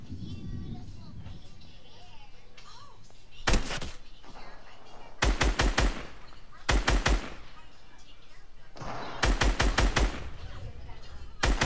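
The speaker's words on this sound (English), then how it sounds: "They're shooting at us now." Gunfire in Fortnite comes in short, sharp rapid bursts, several volleys of quick shots spaced apart, loud against a quieter background with some talk.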